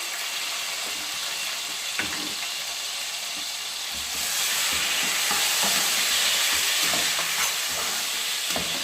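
Steady loud sizzling of Haitian Creole duri frying in a pan, with occasional stirring clinks and a surge in intensity partway through.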